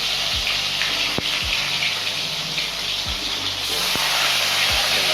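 Bhetki fish, about a kilo, frying crisp in hot oil: a loud, steady, close sizzle and hiss runs throughout, with a few soft low thumps.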